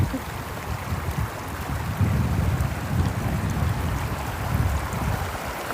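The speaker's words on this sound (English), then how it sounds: "So we have three small bodies of water flowing into this one area." A woodland mountain brook flowing into a river, heard as a continuous broadband rush of moving water with a low rumble, steady and fairly close, with no talk.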